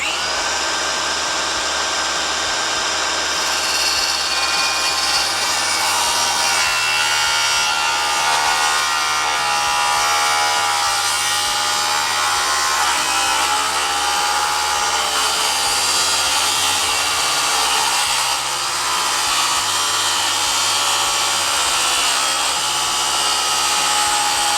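A power saw runs steadily and loudly through a wooden ridge beam, cutting a scarf joint for an ATV carport build, with no pauses in the cut.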